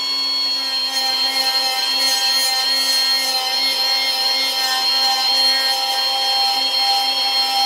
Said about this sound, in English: we're going to use this Whizzy wheel. The idea is not to grind. It's just to remove the paint.